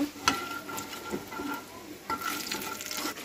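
Beef koftas sizzle and crackle steadily as they fry in a pan, with a few sharp scrapes and taps as they are stirred, up close and with no talking.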